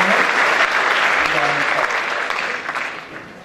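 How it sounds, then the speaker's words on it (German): Sustained audience clapping at an evening sports gala fills the room, loud and even, then thins out toward the end while a voice speaks over it. "unter nochmaligen Applaus die Bühne verlassen"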